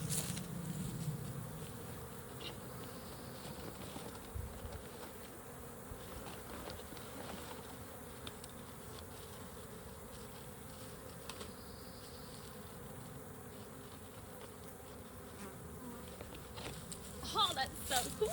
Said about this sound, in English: And these bees are getting super excited.